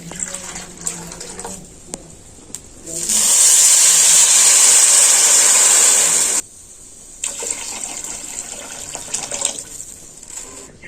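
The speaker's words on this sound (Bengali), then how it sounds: "এখানে আমি দু বাটি জল দিয়ে দেবো" Water poured from a bowl onto sugar in a pan to make a thick syrup for langcha, a loud steady splashing pour of about three seconds, with quieter handling sounds before and after.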